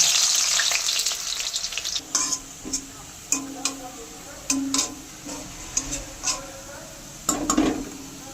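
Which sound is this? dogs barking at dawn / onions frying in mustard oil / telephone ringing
onions frying in mustard oil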